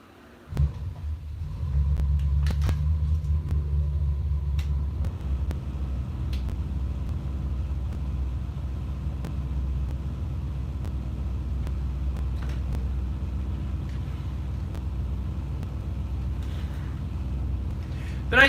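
A truck engine idles steadily while warming up, running through mufflers, a low continuous rumble that starts abruptly and holds level for the whole stretch, with a few faint clicks and brief speech over it.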